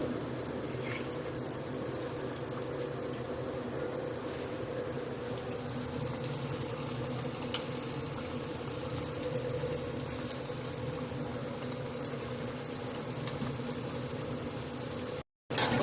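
Cassava vada frying in hot oil, a steady dense bubbling sizzle that holds at an even level throughout, with no talk, cutting off briefly near the end.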